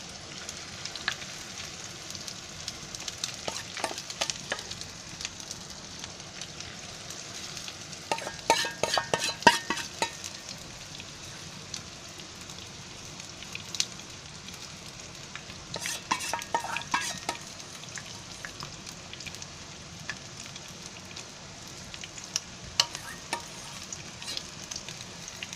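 Chicken pieces frying in oil for chicken chili, a low steady sizzle with repeated bursts of spatula scraping and stirring against the pan, fairly quiet and close, no voices.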